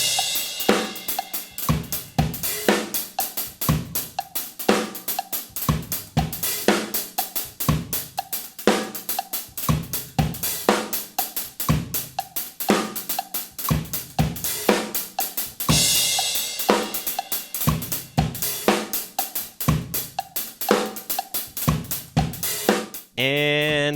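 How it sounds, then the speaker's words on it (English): A drum kit grooves steadily with swung, bouncy hi-hats carrying accents and dynamic shape over a straight kick and snare pattern, loud and continuous for the whole stretch, with a brief change near the end. "the hi-hats are playing this swung, bouncy, skippy rhythm with some accents and dynamic shape to it"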